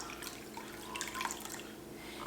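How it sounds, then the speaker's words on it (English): Cold water is poured into a bowl of dissolved Jell-O mix. The sound is a light, drippy trickle with a brief fuller splash near the middle, quiet and close, with no one talking. "and then the cold water"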